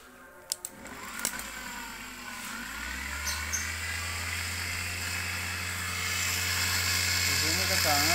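A small brushed 24V DC motor salvaged from a forklift spins up after a few clicks, a steady whirring hum that climbs in pitch and grows louder, running alone near the listener.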